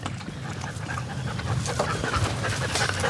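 A puppy walked on a leash pants close to the listener, quick rapid breaths in an even rhythm over a faint outdoor background.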